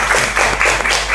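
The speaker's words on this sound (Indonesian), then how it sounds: "Kita berikan tepuk tangan yang meriah kepada anak-anak yang sudah tadi maju mempresentasikan" Students in an Indonesian classroom clap for classmates who just presented their group work, a short burst of dense, close applause.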